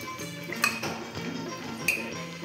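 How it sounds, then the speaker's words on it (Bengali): Vegetables being strained in a home kitchen, with metal-and-dish clinks and a couple of sharp, near clatters over a soft rustling background, no talking. "সবজিগুলো আমি ছেঁকে নিচ্ছি"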